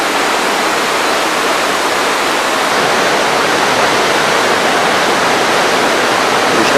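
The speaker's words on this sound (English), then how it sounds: "You can hear the roar of the rapids in the background" River rapids below the falls at Ragged Chutes give off a constant loud roar of rushing water, a steady broadband wash with no breaks, heard from a rock outcropping close by.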